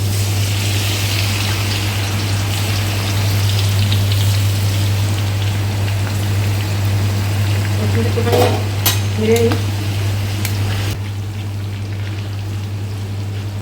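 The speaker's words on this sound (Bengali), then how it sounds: "এখানে তেলটা হয়ে গেছে, এর মধ্যে আমি দিয়ে দেবো প্রথমে রসুন কুচি" Chopped garlic hitting hot oil in a kadai, a steady, dense sizzle and crackle that runs close and fairly loud throughout over a constant low hum, easing slightly near the end.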